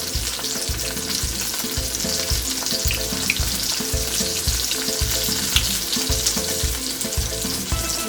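Salmon and vegetables fry in a single pot, a loud continuous sizzle with rhythmic scraping from stirring, close up and with no talking.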